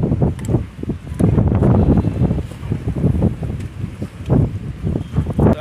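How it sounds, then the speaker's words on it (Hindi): Wind blows steadily outdoors and buffets the microphone in loud, rumbling gusts that rise and fall, with no voices. "तो यार काफी अच्छी हवा चल रही है।"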